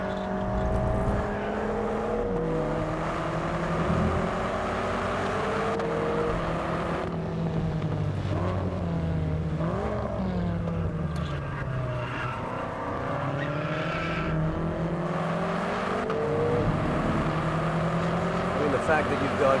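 BMW M5 luxury sedan lapping Buddh International F1 Circuit, its engine note rising and falling steadily through gear changes and quick direction shifts, loud and continuous with wind buffeting, while someone talks over it throughout.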